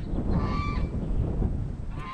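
Several geese honk loudly and close by, overlapping calls in a noisy flurry over a low rumble.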